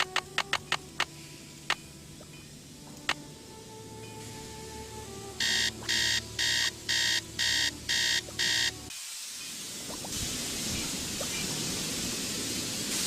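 A faulty radiator in a Nancy Drew game, Treasure in the Royal Tower, clanks in a few sharp knocks, then gives six loud rhythmic buzzing bursts over a steady hum, followed by a rushing, hissing roar.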